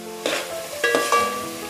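Tomatoes and onions fry in a pan, giving a close, steady sizzle broken by a few short scraping stirs, with no talk.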